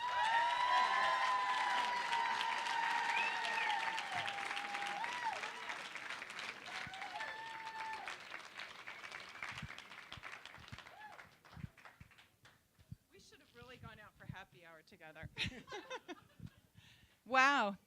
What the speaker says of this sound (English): raise a round of applause for your 2017 Industry Leader and Community Champ